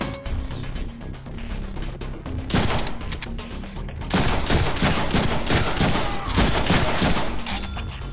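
Dense rapid gunfire in the Deadpool 2 video game, bursts of loud automatic shots and crashing impacts that build and continue almost without pause.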